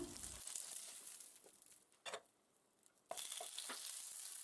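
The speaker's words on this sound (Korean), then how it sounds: "버터가 녹으면 아스파라거스, 방울 양배추를 볶아주세요" Asparagus and Brussels sprouts sauté in melted butter in a pan, a light sizzle broken by short scraping and stirring clatters, one quieter stretch midway, then the frying resumes at full strength.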